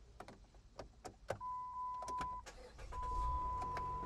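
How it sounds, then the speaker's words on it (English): A Routan minivan is running just after a jump start from a donor car idling nearby. Faint clicks and a dashboard chime come first, then a low, quiet engine rumble settles in and holds steady. "That sounds like a car running to me."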